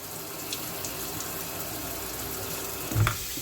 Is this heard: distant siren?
no